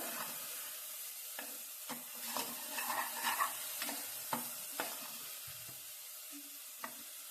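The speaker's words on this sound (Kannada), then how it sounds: "ಇವಾಗ ಮಸಾಲೆ ಎಣ್ಣೆ ಬಿಡ್ತಾ ಇದೆ" Spiced masala for a keema balls curry fries in oil in a pan, a soft steady sizzle broken by scattered clinks and scrapes of a spoon stirring, close by with no talk.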